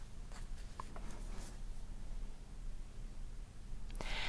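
Pen or pencil scratching across paper during a spelling lesson, soft intermittent strokes over a quiet room, with a brief louder rustle near the end.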